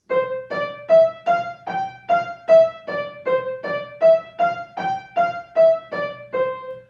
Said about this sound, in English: Staccato is a disconnected sound. There's space in between each note